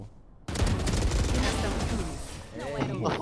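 Rapid automatic gunfire in a Valorant match starts abruptly and continues loud and dense, with a Thai-speaking voice talking over it near the end.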